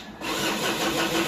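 A car engine cranks and catches after a starter repair, turning over at about a fifth of a second and settling into a steady, loud running idle that holds to the end.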